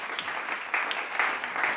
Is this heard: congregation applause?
yes